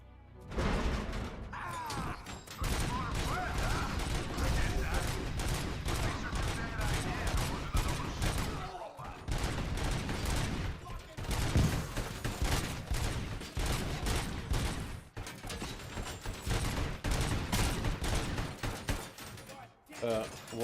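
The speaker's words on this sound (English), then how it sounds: "Why are you shooting at me?" Dense gunfire and mechanical clatter from the Robocop video game, with ED-209 firing alongside, sound in continuous rapid bursts with brief pauses, loud and close throughout.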